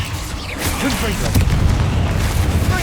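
A Confringo fire spell blasts in Hogwarts Legacy, making a loud, rumbling boom with bursts of crackling impact that roll on steadily while a voice talks over it.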